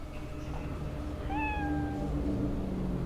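Cat meowing in the video game Cyberpunk 2077: one clear, drawn-out meow about a second long rises above a steady hum of game ambience, close and moderately loud, with no speech.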